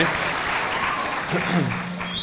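Crowd applause at an adult school graduation ceremony for the graduates, a dense wash of clapping throughout, with faint voices mixed in underneath.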